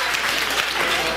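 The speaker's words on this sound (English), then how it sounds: "Round of applause for them." A brief, loud burst of audience clapping fills a SXSW 2016 design-thinking workshop room, with many hands applauding close together.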